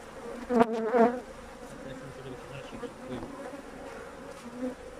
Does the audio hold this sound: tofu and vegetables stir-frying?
no